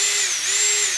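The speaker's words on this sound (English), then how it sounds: "with a drill here, take all the screws loose" An electric power drill whirs steadily at high pitch while backing screws out of the bottom plate of a fuel pump on a 1988 NASCAR Buick, close and continuous with slight speed dips.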